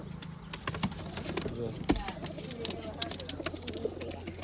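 Soft pigeon cooing repeats under close, fidgety noises and low background hum, with some talking nearby.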